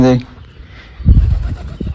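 Pigeons coo in low, brief bursts at a backyard pigeon setup with a wire and nest boxes, following an opening tonal sound; a voice speaks over part of it.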